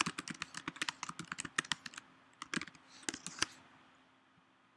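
Rapid clicking of computer keyboard keys as a comment is typed, an irregular run of close, crisp taps heard alone before the keystrokes trail off into quiet.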